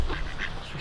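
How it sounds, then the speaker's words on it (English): Ducks quack loudly and close by in a dense, overlapping chorus of rapid calls, outdoors among a following flock. "I've never seen ducks follow so intently."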